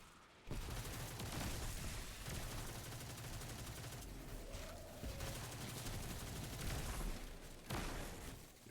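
Dense gunfire and grenade blasts fill a Destiny firefight in a bunker lost sector, with loud rapid bursts and booming explosions that repeat over several seconds with only brief gaps.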